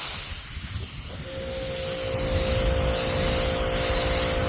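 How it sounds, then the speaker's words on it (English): Giraffe Tools pressure washer spraying water across a flat deck trailer outdoors, a steady loud hiss that builds after the first second and holds, with a faint tonal whine underneath. "I'm using my pressure sprayer to clean off the flat deck trailer out here"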